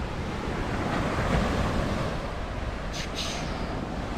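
Steady roar of ocean surf mixed with gusting wind buffeting the microphone, loud and continuous throughout.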